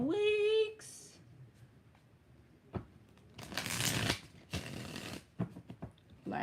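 Tarot cards are shuffled in a few quick, riffling bursts close by, papery rustles separated by short pauses, with a brief tonal sound at the very start.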